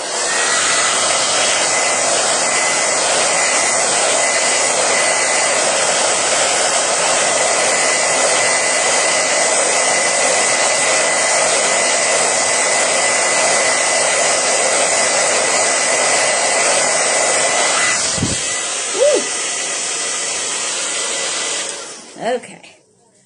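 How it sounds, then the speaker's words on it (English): A hair dryer roars steadily at close range for most of the clip, drying dot-art paint, then cuts off abruptly, followed by a few faint handling sounds. "I am going to need to run the hairdryer here for just a second."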